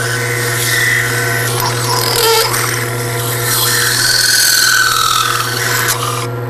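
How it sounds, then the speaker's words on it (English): A chatter tool held like a scraper on a woodturning lathe, its edge squealing and rasping against the spinning wood in a steady, close, continuous scrape over the hum of the lathe. "we take our chatter tool and hold it like a scraper, tipping it up and listening for a telltale squeal"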